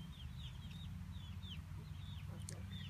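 Chickens in a backyard coop make soft, repeated clucks and short chirps over a low, steady background hum.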